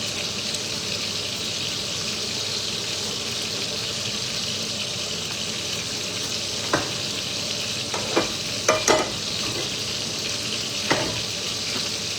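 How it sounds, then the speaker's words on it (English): Eggs frying in a pan at home, a steady hissing sizzle with a few sharp clinks and taps of a utensil against the pan near the end, no talking. "Now I'm going to chuck on some eggs."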